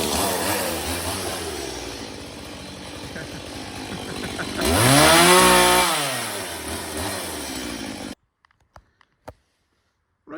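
The engine of a classic Irish-assembled Mk1 Mini, left sitting in a shed for 25 years, runs rough and loud near by, then revs up and back down once before cutting off, leaving a few clanks.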